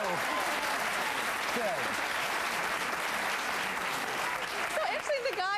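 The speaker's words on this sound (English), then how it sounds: "So actually the guys clapped for that." Studio audience applause, mostly men clapping, a dense steady wash of claps that holds throughout, with brief talk near the end.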